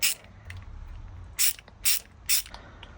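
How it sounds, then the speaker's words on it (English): Ratchet tightening a bolt on a classic Fiat fuel line, a few short crisp clicking bursts close by over a quiet background. "once I get it started, just going to tighten it up the ratchet"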